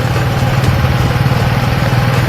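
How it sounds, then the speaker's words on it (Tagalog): A motorcycle engine idles with a steady low rumble and light mechanical clatter, continuous and fairly loud throughout. "So nakasakay tayo ng motor."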